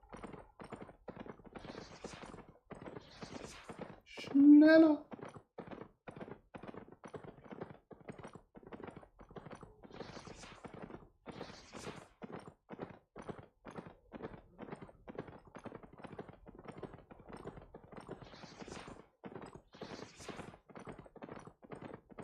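Horse hooves gallop in a video game, a steady rhythmic clip-clop repeating evenly for over twenty seconds, faint and close, with one brief shouted word and a short whinny-like cry partway through.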